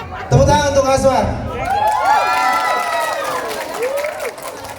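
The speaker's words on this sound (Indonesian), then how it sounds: "Tepuk tangan untuk Aswar" Audience at a stage show bursting into applause for a performer named Aswar, with loud clapping, cheers, whoops and high whistles filling the room for several seconds.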